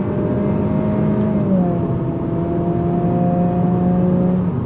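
Cabin drone of a 2023 Acura Integra with a CVT pulling under throttle, a steady hum with whining tones that climb and step like simulated gear changes, loud and continuous with no talk.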